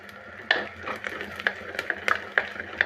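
Curry leaves sautéing in a pan for a home-style ginger kuzhambu, a close crackle and sizzle broken by sharp stirring clinks and scrapes of a utensil against the pan, with no talking.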